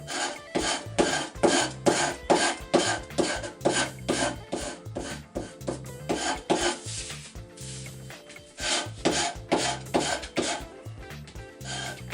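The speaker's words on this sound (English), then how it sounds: "it always pays to scrape it in the direction of the grain" Steady rasping scrapes of a blade along the grain of thick, century-old wood veneer on an HMV 461 gramophone, a dense run of loud, closely repeated strokes alone throughout.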